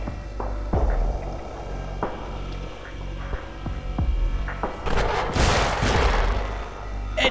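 Gunfire in the video game In Sound Mind: several sharp shots go off at irregular intervals over a steady electrical hum, followed by a louder burst of crashing noise near the end.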